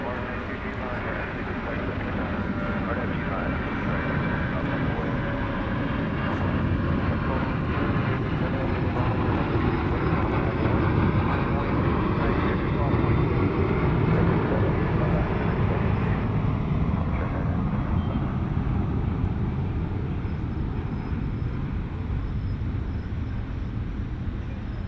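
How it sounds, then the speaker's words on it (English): American Airlines jet taking off from DFW Airport at night, a loud sustained engine roar that swells and shifts in pitch as the aircraft climbs away, with talk running over the noise. "that was Flight 785 American Airlines off to Tucson"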